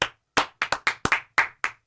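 About eight separate, crisp hand claps ring out close by from a small studio audience welcoming a guest, irregularly spaced with short silences between them.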